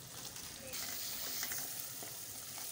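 Potatoes and tomatoes fry in a pan for an aloo bhujia potato curry, giving a dense, continuous sizzle close by with no talking.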